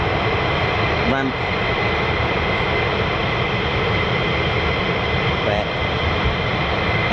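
Jet engines of parked F-15 fighters idle at the end of a runway, a loud continuous roar and whine that fills everything, with someone talking over it.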